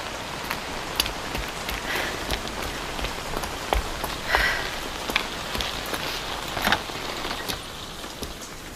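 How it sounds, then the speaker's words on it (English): Rain falling in an audio game for the blind, a steady hiss of drops on surfaces with scattered louder individual splashes and patters, close and continuous throughout, with no voices. "The rain's getting stronger."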